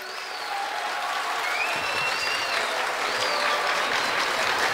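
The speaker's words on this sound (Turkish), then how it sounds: "alkış yapsın Beşiktaşlılar" Sustained applause from a crowd of Beşiktaş supporters at a football talk event, a dense steady wash of many hands with a few whistles cutting through, loud and continuous throughout.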